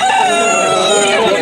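A rooster at a poultry market crows loudly and close, one sustained harmonic call filling the moment.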